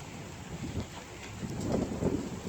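Steady rain falls outdoors as a continuous, even hiss with a soft wash of wind-like noise, building slightly louder toward the end, with no talking.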